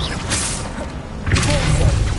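A Confringo fire spell blast from the video game Hogwarts Legacy, played on hard mode, lands as heavy booming thuds with a whooshing burst, loud and close against a constant noisy game backdrop.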